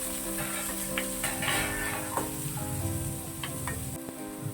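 Sliced onion and crushed garlic fry in hot coconut oil in a pan, giving a loud, continuous sizzle with occasional stirring and crackles throughout.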